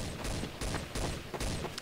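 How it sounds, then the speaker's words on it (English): Rapid bursts of gunfire in the video game Counter-Strike: Source, a series of punchy volleys in quick clusters with short gaps, moderately distant and somewhat muffled, no speech. "A lot of gunfire."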